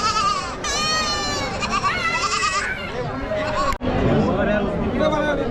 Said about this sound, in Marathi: शेळ्या बघा मित्रांनो